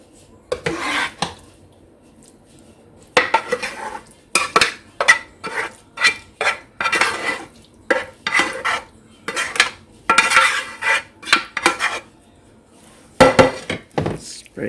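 Metal utensil scrapes and clinks against a lasagna pan while the remaining sauce is spread over noodles for a Mexican lasagna, in quick irregular bursts with brief pauses, close and moderately loud.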